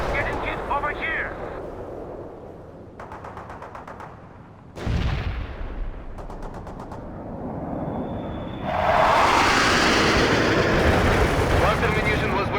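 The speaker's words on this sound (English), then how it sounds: "Cluster munition was wasted on nothing." Cluster bomb strike in World in Conflict: a sudden heavy blast near the middle rolls into rumbling, crackling detonations, then a roaring wash of noise. Radio-style voices talk over it.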